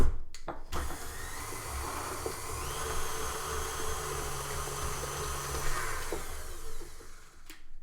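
A food processor blitzing butterbeer cupcake batter, running as a loud steady whir for several seconds after a brief start-up, then winding down near the end.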